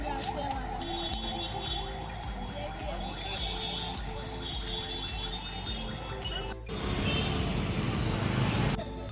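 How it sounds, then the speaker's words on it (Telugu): Busy street traffic at the Charminar night bazaar in Hyderabad during Ramzan, with engine drone and repeated horn toots under crowd chatter and nearby voices, growing louder and more rushing toward the end. "అక్కడ ట్రాఫిక్ వల్ల చాలా నాయిస్ వచ్చింది"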